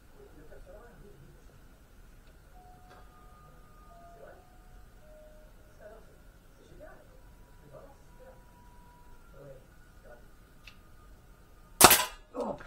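An Artemis CP400 air pistol fires Geco Superpoint pellets, a single sharp crack near the end after a long stretch of quiet handling noise and faint murmuring.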